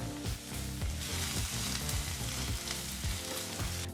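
Onions and pounded spices stirred and heated in butter for a paneer gravy give a loud, continuous sizzle with stirring strokes, over a low rhythmic background.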